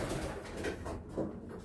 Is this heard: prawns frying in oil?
no